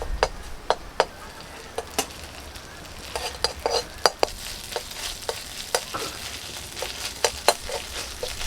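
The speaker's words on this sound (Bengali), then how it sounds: "তেল গরম হলে তেলের মধ্যে দিয়ে দিচ্ছি হাফ চামচ আদা" Half a spoon of ginger fries in hot mustard oil in a kadai for a bottle gourd dish, giving a continuous close sizzle punctuated by sharp metallic clinks of a spoon against the pan, with no speech.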